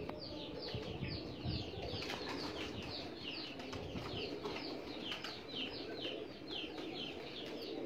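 Pigeon wings flap repeatedly in quick rustling bursts throughout, steady and fairly close, with soft bird calls mixed in and no talking.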